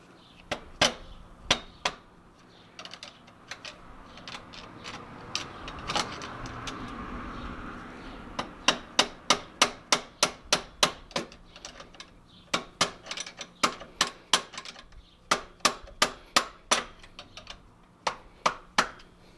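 A small hammer drives a flathead screwdriver against a stiff, oil-caked belt adjustment bracket on an engine, giving a long run of sharp metallic taps in quick bursts, close and loud, with a brief grinding scrape partway through.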